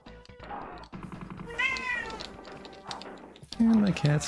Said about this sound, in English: You don't need to meow and howl and run around the house